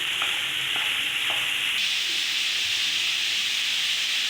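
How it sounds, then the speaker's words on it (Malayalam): Onions with garlic and ginger sauté in a hot pan, browning toward golden for a beef curry: a loud, steady, close sizzle with a few faint stirring scrapes early on. "ഉള്ളി അവിടെ വഴന്നുകൊണ്ടിരിക്കുകയാണ്."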